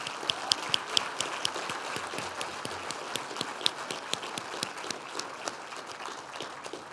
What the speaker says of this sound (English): And I think they deserve another round of applause.